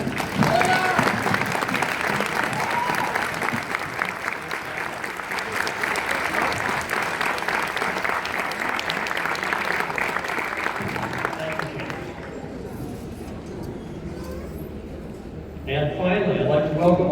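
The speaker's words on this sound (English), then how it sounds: "Let's give them a round of applause." Audience at a school graduation ceremony applauds the teachers with loud, sustained clapping for about twelve seconds, then the clapping fades and a voice begins speaking over a quieter room.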